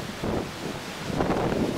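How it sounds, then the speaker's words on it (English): Hurricane Charley's wind gusting in Punta Gorda, Florida in 2004, a steady broadband roar that swells slightly in the second half, close and loud with no talking. "Wind's gusting probably over 120,"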